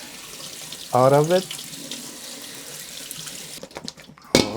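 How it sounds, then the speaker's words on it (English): Running tap water rinses salted eggplant in a kitchen sink, a steady close splash that surges briefly, with a voice speaking over it. "So I'm just going to wash the excess of the salt and bitterness that it came"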